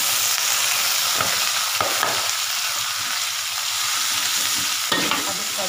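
Papaya vegetables sizzle as they are stir-fried in a pan, with a steady hiss of frying broken by occasional scraping stirs, close and continuous with no talking.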